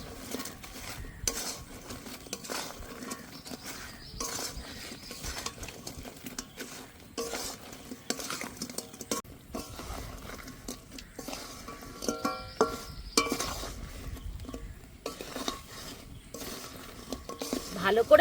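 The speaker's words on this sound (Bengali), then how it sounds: "এবার ভালো করে মিশিয়ে নেব চিনি শিরার রুটি" Fried bread pieces being stirred into sugar syrup in a pan for gaja, with repeated scraping and clinking of a utensil against the pan and a soft sizzle, fairly close and steady throughout.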